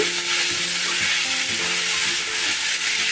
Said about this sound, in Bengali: এর সাথে লোটে মাছটা ভালো করে মিশিয়ে নেব।